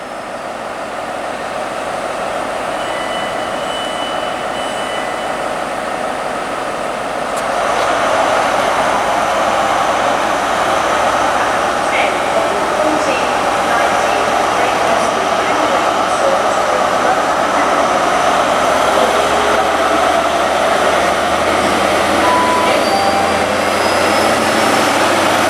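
Class 43 diesel train 43152 pulling out of Reading station toward London Paddington, a sustained engine roar that swells after a few seconds and holds at a loud, steady level, heard from the platform.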